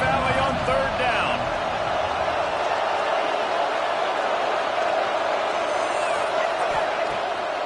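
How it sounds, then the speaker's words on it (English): Big stadium crowd at Happy Valley in a college football video game, a steady loud roar of noise on third down that runs without a break from start to finish, with faint talk layered underneath. "Here comes the noise from this big crowd in Happy Valley on third down."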